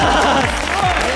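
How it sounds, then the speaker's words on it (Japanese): A crowd of spectators claps at an outdoor soft tennis target-hitting event in Akita, a dense burst of applause, loud and close, with voices faintly mixed in. "拍手お願いします"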